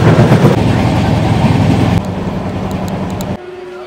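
A passenger train heading toward New Jalpaiguri rumbles loudly from on board, its steady rolling roar stepping down in level partway through and dropping again near the end.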